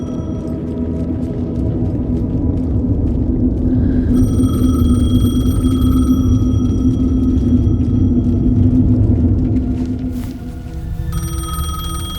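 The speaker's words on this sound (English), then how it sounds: "The payphone was ringing." Payphone ringing in the video game Alan Wake II, an electronic bell tone repeating in bursts over a low ambient rumble and hum, fairly close and alone without talk.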